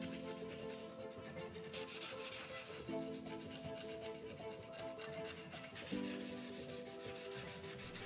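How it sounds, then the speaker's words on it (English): Sandpaper rubbed by hand over an old metal wrench during restoration, steady close scratchy strokes repeating in a rhythm with no talk. "It is necessary to go from coarse paper to fine paper to gradually remove all the scratches."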